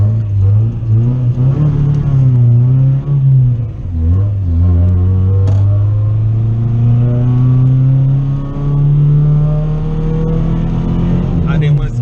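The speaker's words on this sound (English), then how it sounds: "We'll roast the tires a little bit." A budget car build fitted with an eBay turbo revs hard while roasting its tires in a burnout, a loud, sustained engine roar that dips briefly, then climbs steadily in pitch, heard up close.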